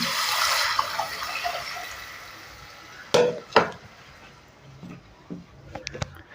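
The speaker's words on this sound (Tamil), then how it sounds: "இப்போ இந்த புளி தண்ணியை ஊற்றிடலாம் அப்படியே" Tamarind water is poured into a pan of sautéed tomato and spices for rasam, a brief splashing rush at the start, then quiet with a few clinks of a spoon against the pan.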